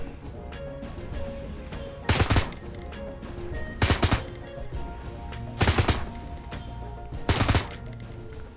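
Four separate bursts of gunfire in Shadowrun Hong Kong, evenly spaced and sharp, punching out over a steady ambient hum and light background music, with no one speaking.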